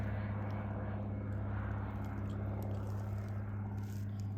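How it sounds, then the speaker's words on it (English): A friend's small propeller airplane passes overhead during a motorcycle ride near Matanuska Glacier in Alaska, a steady low engine drone holding level throughout with broad wind-like noise. "I think that is Jeff's plane."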